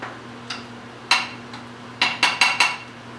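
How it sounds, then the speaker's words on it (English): A utensil stirring cooked bologna in a pan, with a few light clinks and taps against the metal spaced irregularly over a quiet background hum. "Give it one last good stir."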